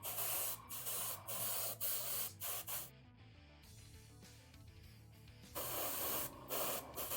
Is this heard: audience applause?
no